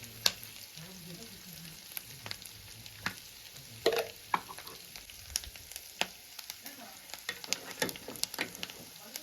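A bamboo shoot curry with turmeric and salt is stirred in a pan, a faint low sizzle punctuated by frequent sharp spoon clacks and scrapes against the metal.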